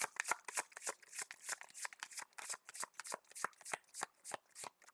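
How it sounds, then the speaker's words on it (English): A deck of cards from a superhero card game is given a thorough shuffle, a rapid series of crisp riffles and slaps repeating close by at a fairly quiet level. "give her deck a good shuffle as well"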